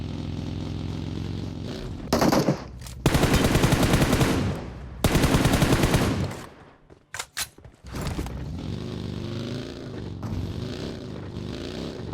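Bursts of automatic gunfire in the mobile battle-royale game PUBG Mobile, loud rapid rattling volleys in several long strings with brief pauses between, over a steady background hum.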